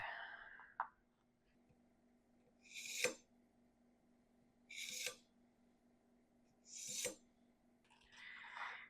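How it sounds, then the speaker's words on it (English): A kitchen knife is sharpened in slow, evenly spaced strokes, each a brief bright rasping swipe roughly two seconds apart, heard up close against a quiet background hum. "I think I need to sharpen this knife."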